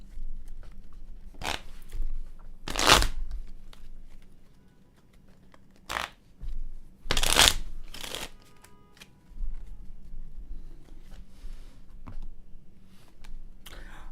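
Cards being shuffled by hand for a single tarot-style card pull, heard as a few separate riffling bursts spaced across a quiet room with low background hum and no talking.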